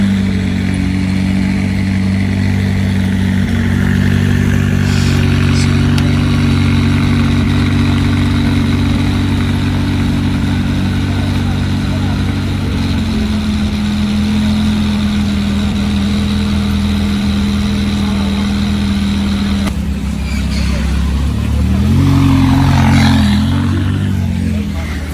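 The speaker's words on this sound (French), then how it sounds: "vous allez arrêter de dire que les McLaren ne font pas de bruit" A McLaren supercar on a Monaco street, its engine idling loudly and steadily up close, then revving and swelling near the end, with voices in the background.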